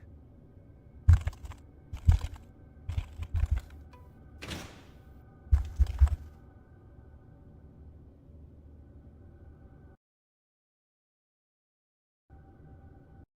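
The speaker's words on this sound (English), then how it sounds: "Why is the word publicly so hard to fucking type on a keyboard now?" Several short bursts of typing on a computer keyboard, with clusters of clicks spaced out over the first six seconds under a low steady hum, followed by near silence.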